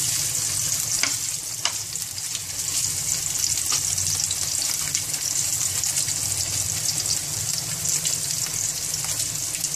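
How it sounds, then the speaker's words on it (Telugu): Paneer pieces frying in a little oil in a pan, a continuous bright sizzle with crackling pops, steady and close, with no talking. "తర్వాత పన్నీర్ ముక్కలను కొంచెం నూనె పోసుకొని ఇలా వేసుకోవాలి"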